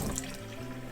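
Water pumped through a camper's plumbing lines during RV winterization, a steady close rushing flow with faint tonal hum from the pump running throughout, no talk.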